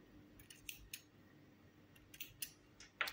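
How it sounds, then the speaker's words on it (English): Scissors snip through yarn while a plush amigurumi rabbit is being crocheted: a handful of crisp, quiet cuts in short clusters, with no talking. "take your scissors and cut the yarn"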